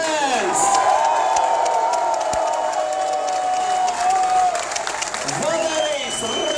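Crowd at a Latvian Cup football award ceremony applauding and cheering as players are introduced, a continuous roar of clapping and whoops under a loud amplified announcer's voice.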